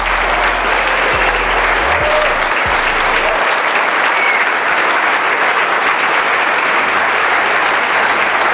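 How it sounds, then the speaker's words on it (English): A standing crowd at a wholesaling conference in Asheville claps continuously, a thick, even wash of applause that holds loud for the whole stretch, with a few low thuds early on. "turn around, and give them a round of applause"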